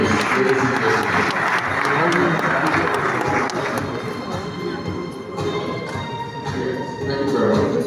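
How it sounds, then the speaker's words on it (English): A crowd applauds steadily at a real estate outlook event at Muson Centre, Lagos, a dense wash of clapping that rises and dips slightly over several seconds, with some voices mixed in. "A round of applause, please, ladies and gentlemen."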